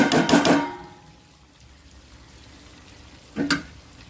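Chili powder and salt hit ginger garlic frying in oil for chicken fry, giving a loud sizzling burst, then a quiet simmer, then a second short sizzle near the end.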